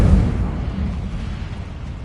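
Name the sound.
Incendio fire spell cast in Harry Potter video game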